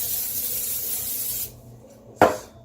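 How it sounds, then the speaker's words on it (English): A steady hiss of cooking spray onto a pan runs for about a second and a half, stops, then a sharp clatter follows. "And I just give it a nice light spray."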